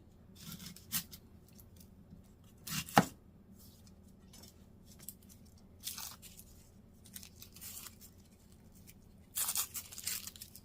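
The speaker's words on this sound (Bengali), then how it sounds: "রসুনের দুইটা কোয়া আর একটুখানি মূলা এগুলো আমি একটু সেলে নেব মানে সুন্দর করে একটু কেটে কুটে নেই" Garlic cloves and radish cut with a knife for cucumber kimchi, heard as scattered crisp chopping strikes and crunches, one sharper knock near the middle, alone with no talk.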